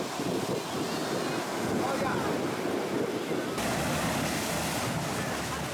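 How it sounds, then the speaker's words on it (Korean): Continuous roar of surf crashing at Little Venice on Mykonos, Greece, with gusting wind buffeting the microphone, loud and unbroken throughout. "파도와 바람이 한 몸이 되어 부딪히는 이곳."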